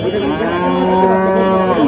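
A four-day-old female calf gives a single long, loud moo close by, with no other sounds around it.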